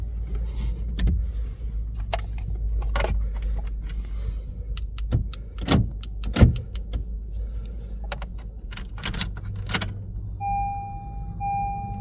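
A 2006-2020 Honda Civic responds to a newly programmed key fob: keys jangle and clack close by, lock actuators thunk several times, and a steady electronic chime or beep comes in near the end.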